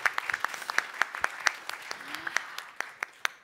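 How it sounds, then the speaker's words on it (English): Sparse, scattered hand claps from a small conference audience at a space-investment talk, a thin smattering of individual claps rather than a full ovation, fairly quiet with a faint voice underneath. "Please applause."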